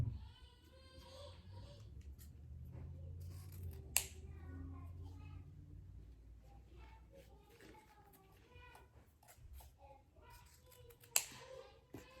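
Scissors snipping fabric pieces for a tutu, quiet irregular cuts close by with soft handling noises, two sharper clicks standing out from the faint background.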